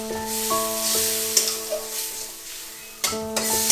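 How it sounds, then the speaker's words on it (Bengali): Spiced masala for a Bengali tilapia fish curry sizzling in hot oil after a splash of water, a steady close crackle with bursts at the start and again near the end, alone with no talk. "মশলা কষানো হয়ে গেছে দেখুন, এবার একটুখানি জল দিয়ে দেবো।"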